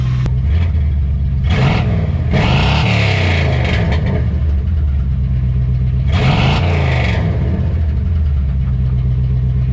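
A loud 1994 Chevrolet Caprice engine rumbling close by, with several sharp revs rising and falling over a deep, constant idle.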